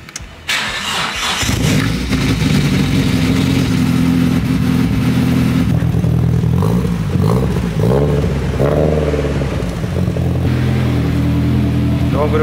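A rally car's engine starts and settles into a loud, rumbling idle through a newly fitted exhaust, then revs in several rising bursts up close, with people talking over it.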